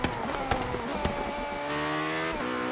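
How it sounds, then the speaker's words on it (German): A McLaren P1 PXH Edition supercar engine in Forza Horizon 3, revving with sharp tonal harmonics, punctuated by a few quick gear-shift pops before a steady climbing drone, close and loud. "Und ab geht die Reise des McLaren P1 PXH Edition."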